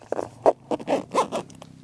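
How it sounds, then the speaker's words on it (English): A stiff zipper on a rooftop tent, tough after a year without maintenance, is pulled open in several short, close rasping bursts with brief pauses between them. "the zipper, it gets tough after a year of like no maintenance"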